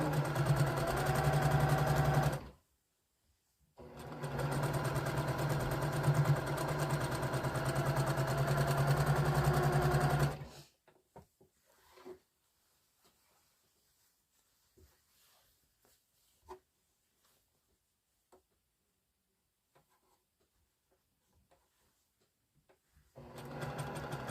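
Sewing machine stitching jelly roll fabric strips in two steady, loud runs with a brief stop between them, then near silence with faint handling clicks before the motor starts again at the end.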